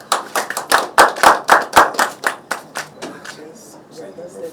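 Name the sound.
hand clap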